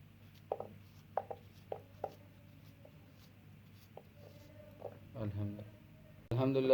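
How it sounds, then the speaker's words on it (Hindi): A knife chops apples into small pieces on a board, a handful of sharp, separate cuts spaced out at close range, with quiet talk and some louder handling near the end. "सेब हमने काट लिए"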